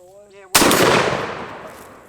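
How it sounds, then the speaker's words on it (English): A shotgun fires a single loud blast loaded with either a slug or buckshot, an abrupt broadband crack that decays over about a second and a half, with a brief voice heard just before it. "I don't know if I'm shooting a slug or buckshot"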